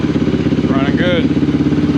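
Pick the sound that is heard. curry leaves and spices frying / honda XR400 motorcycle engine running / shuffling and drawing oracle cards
honda XR400 motorcycle engine running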